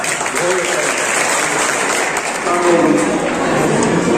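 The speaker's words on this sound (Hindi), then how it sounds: "जोरदार तालियां, बहुत अच्छे।" Loud, steady applause from an audience at a small family gathering and Islamic quiz for a child's aqiqah, dense clapping throughout with a voice calling out under it.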